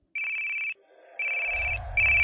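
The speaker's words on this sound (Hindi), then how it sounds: "तभी मोबाइल पर उसकी मम्मी का कॉल आता है।" A mobile phone rings with an incoming call: bright electronic ringtone bursts repeat in a regular pattern, loud and near, with a low rumble joining toward the end and no talking.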